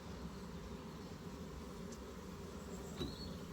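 Honey bees humming at an open hive during a spring inspection before the rapeseed bloom, a dense, steady, faint buzz filling the whole moment with no talk.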